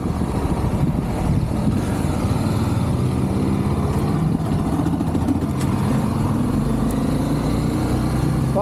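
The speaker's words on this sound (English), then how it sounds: "Follow the tuk-tuk." A tuk-tuk's small engine drones steadily on a hilly road in Guatemala, a continuous close, rough motor hum with road noise and no speech.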